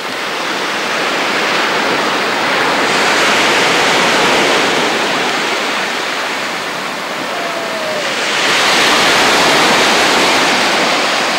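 Continuous roar of sea waves breaking on a beach, a broad steady wash that swells and eases, loud and close with no voices.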